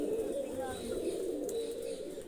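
Low, steady pigeon cooing fills the clip, soft and continuous, with a faint higher chirp or two above it.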